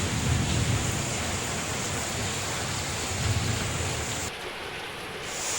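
Heavy rain pours down during a record downpour with flooding in Puttalam, Sri Lanka, a dense, continuous roar of falling water that holds steady and then drops noticeably softer near the end.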